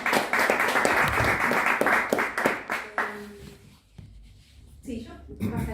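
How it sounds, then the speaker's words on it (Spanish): An audience at an academic conference claps in a dense, lively burst for about three seconds, then the applause thins out and a speaking voice takes over with scattered rustling noises. "Vamos a aplaudir mientras vos abrís."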